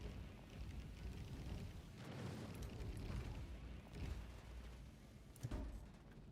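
Tachyon Cannon on a ship fires at an enemy ship in a space combat game, giving a low rumbling roar with several heavy booming shots, and a sharp burst near the end over continuous game noise.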